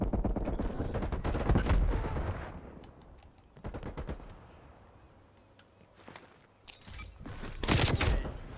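Automatic gunfire in Call of Duty Black Ops Cold War, several loud bursts of rapid shots separated by quieter gaps, close and sharp with no talking.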